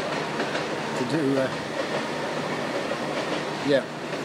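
A train rolls past with a steady, broad rumble and rattle that holds throughout, swelling briefly near the end.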